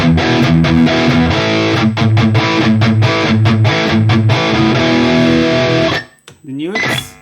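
An electric guitar runs through a Valeton GP-200 multi-effects processor with delay and reverb off, playing loud crunchy distorted rhythmic chords and muted chugs that cut off abruptly near the end, followed by a brief muffled noise.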